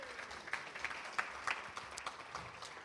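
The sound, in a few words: round of applause at awards gala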